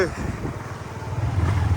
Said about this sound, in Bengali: বাইক দিয়ে আমরা ভিতরে ঘুরতেছি